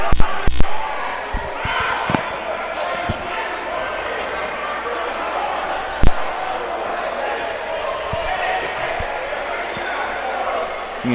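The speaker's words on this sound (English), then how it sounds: "You can hear just the crowd excited on this one, the student section." Excited student section crowd at a Greenville vs Eureka men's college basketball game, a steady roar of cheering filling the gym with a few sharp ball bounces and thuds cutting through, loudest near the start and around the middle.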